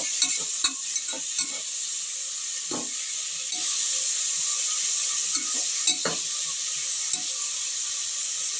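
Onions and green chillies fry in a pan for chicken kuruma, giving a steady, bright sizzle with occasional soft scrapes and clicks from stirring. No one speaks.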